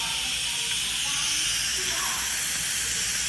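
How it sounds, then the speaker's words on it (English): An Instant Pot pressure cooker vents steam after cooking keto BBQ ribs, giving a loud, steady, close hiss that runs unbroken from start to finish. "we're gonna go ahead and release the pressure. Be careful, don't get burned by the steam."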